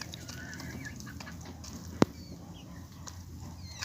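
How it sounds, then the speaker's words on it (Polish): Young chickens and a small rooster from a first brood cluck softly and peep intermittently at moderate distance, with one sharp knock partway through. "Kurki z pierwszego lęgu, czyli ramen, koruella, czarna i kogutek."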